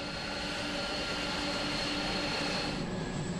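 A cargo plane at Frankfurt airport gives off a steady, loud engine roar with a constant whine layered on top, unbroken across the whole stretch and with no voices.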